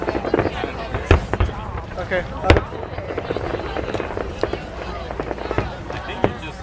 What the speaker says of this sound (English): filming the fireworks.